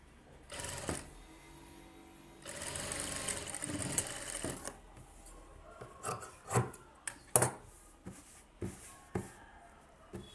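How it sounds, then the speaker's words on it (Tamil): A sewing machine stitches a back neck piece for a blouse, with bursts of close mechanical whirring and rubbing of fabric, followed by scattered handling taps and rustles. "இந்த மாதிரி வச்சு உள்ளே தையல் போட்டுருங்க."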